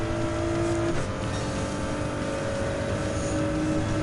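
A Gr.3 race car engine in Gran Turismo 7 at the Red Bull Ring drones loud and steady at high revs, with a brief pitch dip near one second as it shifts.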